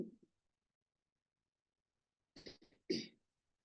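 Two short bursts of coughing or throat clearing, close and fairly quiet, separated by a stretch of silence.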